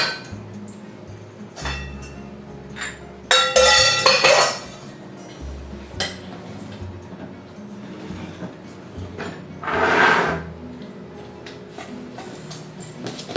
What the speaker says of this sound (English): now I'm going to pour the dry ingredients into the wet ingredients. And mix that together.